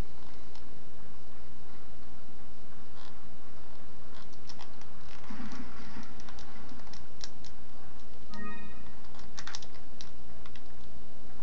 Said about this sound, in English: clicking, I tend to push buttons a lot, obviously.